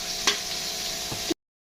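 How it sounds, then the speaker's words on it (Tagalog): Garlic and onion sautéing in a pan, a steady close sizzle with a couple of sharp spatula scrapes or taps against the pan over a short stretch. "Igisa ang bawang."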